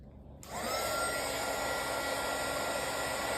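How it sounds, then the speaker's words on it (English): A heat gun switches on and blows a steady, loud rushing stream of hot air onto a wax candle, held close and constant. "So as I pull that tight, I'm going to keep using my heat gun."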